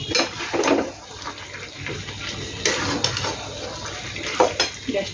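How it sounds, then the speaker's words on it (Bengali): Potatoes and eggplant cooking in a pot are stirred with a spoon, giving intermittent scraping and clinking against the metal over a low simmering bubble, close and moderately loud. "একবার নেড়ে দিই বন্ধুরা।"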